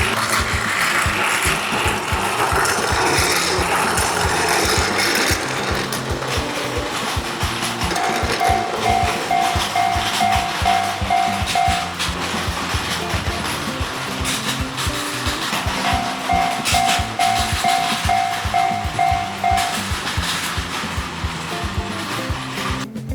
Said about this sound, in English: It's time to test the Shinkansen. Let's see how smoothly it runs through the layout